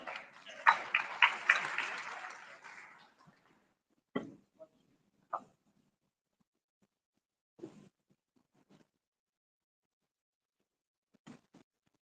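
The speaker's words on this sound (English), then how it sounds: "A big round of applause." An audience at a live Harvard event claps for an incoming workshop guest in a short burst of moderate applause that dies out after about three seconds, followed by a few faint scattered knocks in near silence.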